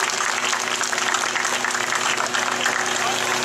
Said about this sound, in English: applaud them, love them,